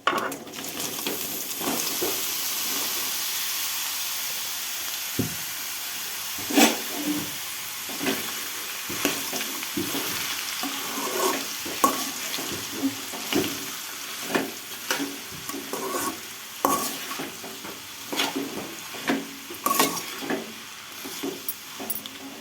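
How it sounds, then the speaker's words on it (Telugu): Ridge gourd slices sizzle in hot oil with a spice tempering, with a continuous frying hiss. A spatula scrapes and clanks against the pan in repeated strokes as the pieces are stirred, close and fairly loud. "తాలింపు అయితే అయిపోయింది బీరకాయలు వేసుకుంటున్నా"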